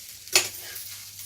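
Leftover rice stirred into a hot tempering in a pan, a single brief scrape and sizzle burst near the start, then a quiet, low hiss.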